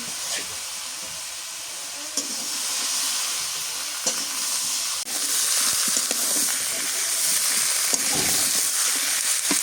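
Flat beans and potato pieces fry in a hot pan with a loud, close sizzle that intensifies midway, punctuated by occasional scraping and stirring clicks.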